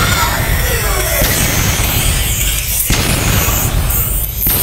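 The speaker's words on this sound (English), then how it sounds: "Nuclear bomb." A nuclear bomb explosion in a joke 20th Century Fox logo parody: dense, loud, sustained roaring blast noise with sharp bursts recurring throughout, filling the whole clip.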